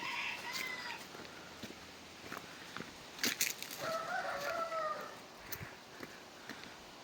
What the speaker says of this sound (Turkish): Burada tavuklar bağırıyor bizi buradan çıkar diye